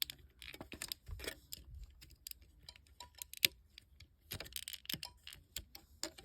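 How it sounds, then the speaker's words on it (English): Plastic Transformers toy parts being pushed together, giving a string of small, quiet clicks and taps in an irregular rhythm, with one sharper snap near the middle, close and without speech. "you're just going to take them and push them in until you hear that click"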